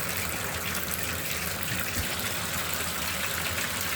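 Hot water gushes steadily from a bathtub tap, a continuous hiss and splash without pause.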